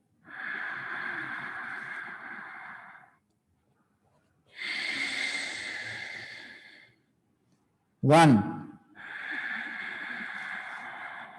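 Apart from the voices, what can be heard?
breathing during yoga exercise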